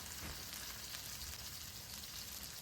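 Whole garlic, onion, curry leaves, black peppercorns and cumin frying in oil for qeema, a dense, even crackling sizzle held at a low level throughout.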